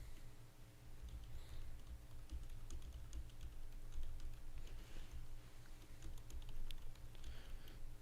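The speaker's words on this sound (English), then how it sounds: "Hope you guys like typing sounds." Fingers type on a computer keyboard in quick, irregular bursts of soft clicks and taps, close but faint, running steadily without speech.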